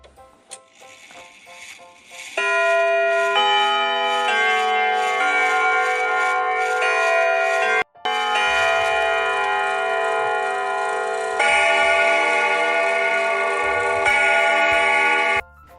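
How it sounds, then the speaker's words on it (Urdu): A big clock strikes the hour after a soft ticking start. Loud, ringing bell chimes follow in a sustained melodic sequence, with a brief break near the middle, and no voices. "اوہ، یہ تو بڑی والی گھڑی کی آواز ہے جسے گھنٹا"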